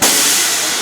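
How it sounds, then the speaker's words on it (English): A train passing on the Verde Canyon Railroad in Arizona, a loud steady roaring hiss that fills the short moment. "No, that was a train."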